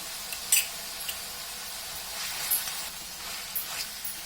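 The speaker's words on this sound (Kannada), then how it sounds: "ಹಸಿ ವಾಸನೆ ಹೋಗೋ ತನಕ ಫ್ರೈ ಮಾಡ್ಕೋಬೇಕು." Ginger garlic paste frying in hot oil for chilli chicken gives a soft, steady sizzle with occasional light spoon clinks and stirring scrapes, faint and without any talking.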